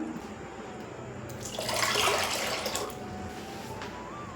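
Water is poured into mashed tamarind for fuchka, a short, soft splashing pour that swells for about a second over a quiet background hum, then fades back.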